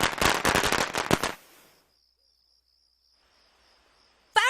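Fireworks going off in the animated show South Park: a rapid, loud string of crackling bangs, then a long thin high tone over near silence before a sudden loud burst at the end.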